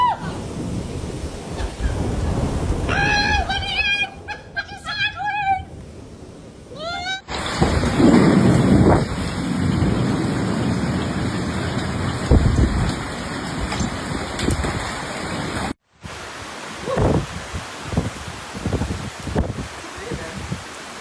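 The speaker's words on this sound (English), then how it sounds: "experienced an insane amount of lightning and thunder as the storm rolled through" A thunderstorm in Brisbane, Australia, with heavy rumbling thunder and a steady roar of rain and wind across a long stretch, interrupted by a brief silence, while a voice talks at times and a cat meows early on.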